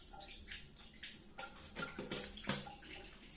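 Water splashes from a burst water-filled condom, a faint scatter of splashes, drips and trickling in quick irregular bursts.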